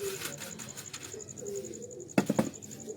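Pigeons coo softly in low, repeated phrases against a faint steady high whine, with a short burst of sharper clattering near the end.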